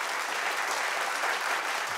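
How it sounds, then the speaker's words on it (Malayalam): A studio audience at a televised comedy stage show claps steadily, a dense, even wash of applause that holds for the full couple of seconds with no voices over it. "കയ്യടി എന്ന് പറയുന്ന മൂന്നക്ഷരം"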